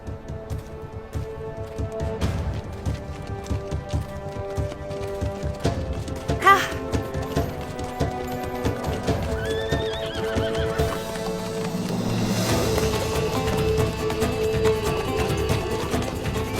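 Several horses whinny and neigh over steady clip-clopping hooves in a dramatized historical scene. The hoofbeats run continuously throughout and grow denser toward the end, loud and close, with a busy background mix.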